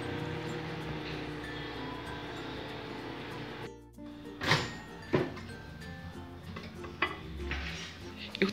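A microwave oven runs with a steady tonal hum for a few seconds, then cuts off sharply. Clunks and clattering follow, like the door and dishes being handled, with faint voices nearby.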